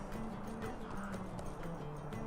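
A horse summoned by a whistle in the LOTRO online game: steady clip-clopping hooves that run throughout, fairly loud and continuous over a dense game soundtrack.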